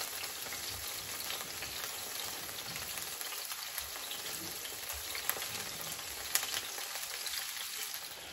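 Meatballs fry in a hot pan on a lowered flame, giving a dense, continuous sizzle and crackle with scattered sharp pops throughout.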